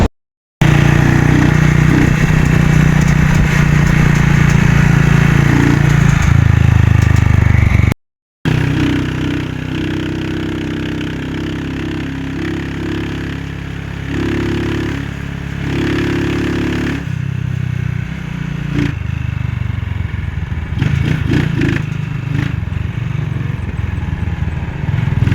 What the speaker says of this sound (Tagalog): So sakay naman din tayo ng tricycle papunta ng Pacific Mall.